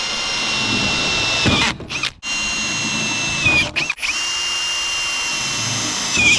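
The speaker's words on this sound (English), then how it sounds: "Just drill random holes everywhere and then just, yeah, poke them through the back." A power drill bores holes into the body of a $1000 Land Rover Discovery. The whine is loud and steady and close by, and it stops briefly twice with short gaps before starting again.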